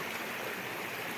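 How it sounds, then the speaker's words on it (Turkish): A mountain stream beside a highland pasture rushes steadily, a dense, continuous wash of flowing water that stays even and fairly close with no voices over it. "bir derenin yanındayız."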